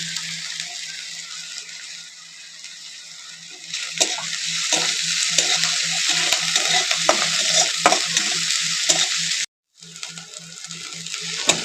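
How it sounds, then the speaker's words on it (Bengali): Chopped onion with green chillies fries in a pan, with a steady sizzle and repeated scraping stir strokes. The sizzle briefly drops out near the end, then returns. "পেঁয়াজটা আমি একটু সামান্য লাল করে নিয়েছি। এর মধ্যে আমি দিয়ে দেবো 3 থেকে 4টে কাঁচা লঙ্কা কুচি।"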